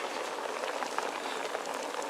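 Soft, steady bubbling of water boiling in a pot on a stove, a quiet continuous roiling hiss with small pops.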